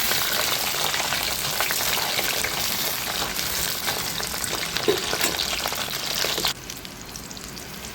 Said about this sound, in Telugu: ఇది మంచిగా వేయించుకొని పక్కన పెట్టుకుని